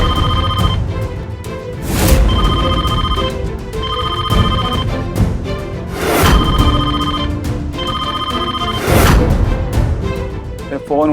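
A telephone ringing at night, a loud repeating ring pattern that pulses in regular bursts about every two seconds, close and steady with no break.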